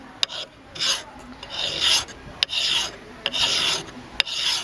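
A file rasps back and forth in repeated strokes, each a harsh scraping burst, with a few sharp clicks between strokes, close and fairly quiet.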